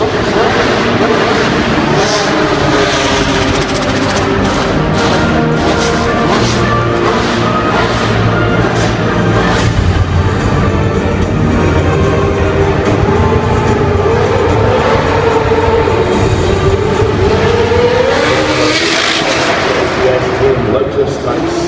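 A Lotus Type 79 Formula 1 car drives around an indoor live action arena at a motorsport show, a loud continuous engine roar and rumble echoing through the hall with a crowd and announcer's voice beneath.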